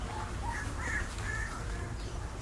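A few crows caw at a distance on a farm, several short harsh calls over a steady outdoor background hum, faint and with no voices.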